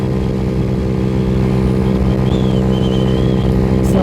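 A Venom X18 50cc motorcycle buzzes at a steady high rev while riding, a constant close engine drone mixed with wind rush and no speech.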